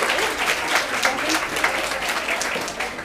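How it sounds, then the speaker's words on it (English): Steady applause from an audience at an activism event talk fills the room, a dense patter of clapping that continues throughout. "Give her a warm round of applause."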